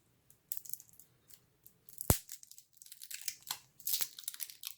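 Sixty-five-year-old cellophane wrapper on a shortbread bar being torn and pulled apart by hand, with faint irregular crinkles, scrapes and a couple of sharp snaps, close and quiet.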